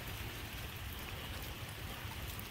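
Rain falls steadily over a cottage-style garden, a soft, even patter and hiss with no breaks, faint and unaccompanied by any voices.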